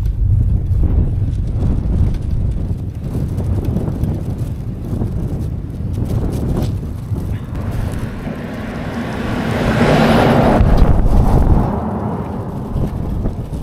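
Strong wind of about force seven sweeps across a grassland road in Inner Mongolia, roaring and buffeting the microphone in a loud, continuous low rumble that swells toward the end.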